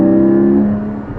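A Porsche GT4 fitted with a Valvetronic Designs exhaust and over-axle pipes, a brief close engine rev with a steady droning tone that fades within about a second.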